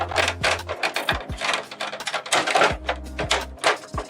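Plastic latches on the top cover of a Canon PIXMA iP1800 printer snap and click into place amid busy rattling and handling of the casing, close up and continuous, with no talking.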